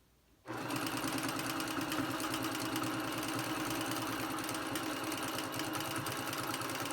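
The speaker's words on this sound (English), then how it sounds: "I'm sewing down the edges. And I'm gonna quilt on." A sewing machine starts up and runs continuously, sewing down the edges of a quilt made with fusible grid interfacing. Its steady, rapid mechanical chatter is close and even.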